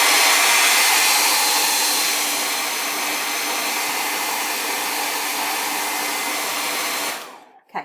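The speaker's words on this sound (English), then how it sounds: "So I'm grabbing my hairdryer." A hair dryer blows steadily at close range, a loud continuous whoosh that cuts off near the end.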